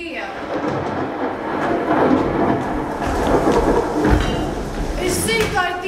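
A thunderstorm sound effect rumbles and crackles in a stage play, loud and continuous with rain-like hiss, while actors speak over it.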